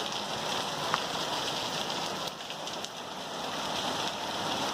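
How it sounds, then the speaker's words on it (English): Hard rain pouring off a roof during an afternoon thunderstorm in Green Valley, a dense steady roar of falling water, close and continuous, with no talk. "The water's just pouring off the roof."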